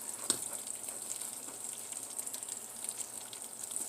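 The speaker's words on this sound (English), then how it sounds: "I'm just going to fry this egg" An egg fries in butter in a pan with a steady, soft, close sizzle and a few small crackles and pops, alone without voices.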